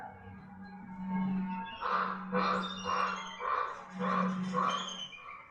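Birds call in an Alaskan forest during the short northern summer, a run of about six repeated bursty squawking calls at moderate distance over a steady low hum.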